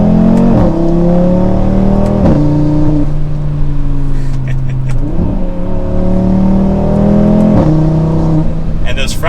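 A 8Y Audi RS3 with new rear sway bar end links drives twisty roads, its engine close and loud, revving up and easing off repeatedly with quick gear changes cutting through the steady road roar.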